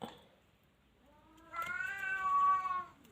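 A single drawn-out cat meow rises and falls near the end, preceded by a faint short mew and quiet moments.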